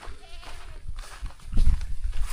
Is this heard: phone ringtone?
no